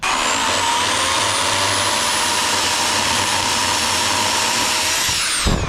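A loud, continuous chainsaw whine with a high-pitched buzzing drone holds steady throughout as it cuts dry firewood at full speed, then drops off at the end.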